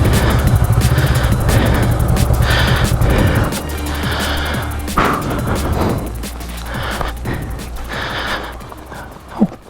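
A 2019 Honda CB500X adventure motorcycle chugs slowly over rocky off-road ground, a loud, low engine drone with rough bumps and clatter that eases off partway through before a sharp knock at the end.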